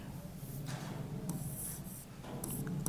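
Chalk or marker scratching on a board during a vector calculus lecture on volume integrals, with short rubbing strokes repeating every half second or so over a steady room hum and no talking.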